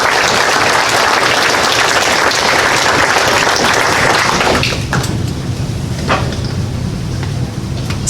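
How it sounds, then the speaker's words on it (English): Loud, dense applause from an audience at a Lions club awards ceremony for honorees, steady for about five seconds before thinning to scattered claps. "These people deserve a round of applause."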